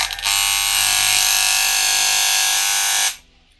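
A loud, steady electric buzz from a hair clipper running on the wrong mains frequency lasts about three seconds with a harsh rattling edge, then cuts off abruptly.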